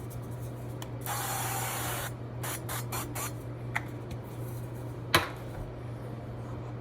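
A steady hiss of avocado oil cooking spray onto a baking dish for about a second, then several short quick spritzes, with a steady low hum underneath.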